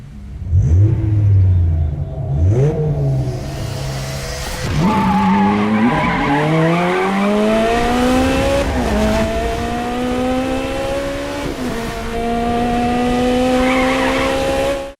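Street racing cars in The Crew 2 skid and squeal their tires through repeated slides, engines revving and rising in pitch between loud screeching bursts, close and continuous.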